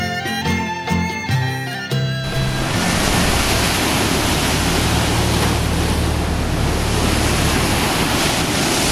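Rough sea off Panarea island in the Aeolian Islands surges as a loud, steady roar of waves and wind buffeting the microphone, after a short passage of music at the start.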